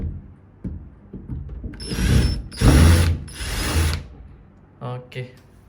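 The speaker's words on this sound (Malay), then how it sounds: "tadi kita dah buka skru dia, kita cabut" Screws are backed out of a normal door knob with a power driver, producing three sustained whirring bursts amid small clicks and handling knocks, followed by a couple of short grinding spurts, all nearby.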